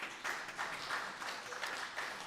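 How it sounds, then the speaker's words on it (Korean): Congregation at a Mother's Day church service applauding in welcome, a steady, moderately distant patter of many hands clapping with slight swells, no voices on top. "박수로 한번 환영합니다"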